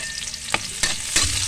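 Garlic and onion fry in a pan with a steady close sizzle, broken by three sharp scraping stirs at roughly even intervals, with no talk.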